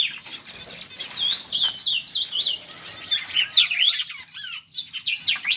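Pet birds in a large aviary keep up a steady, busy chorus of high chirps and trills, fairly close and loud throughout, with some soft rustling beneath and no talking.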